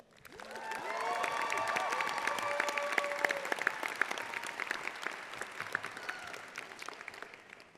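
Audience applause at a UC Irvine Law commencement ceremony greeting a speaker: a dense, steady clapping from a large crowd that swells in quickly, holds for several seconds, then tapers slightly, with faint cheers mixed in.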